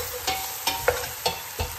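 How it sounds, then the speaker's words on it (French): Chicken with mushrooms and coconut milk is stirred in a pan, giving about five short scraping strokes of a utensil over a low bubbling sizzle, close and without speech. "je mélange encore un peu pour que les parfums se mélangent bien"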